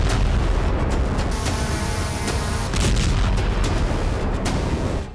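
Heavy booms and blasts from strikes on Russian territory, a dense continuous roar of explosions and artillery-like bursts throughout, loud and with no voices.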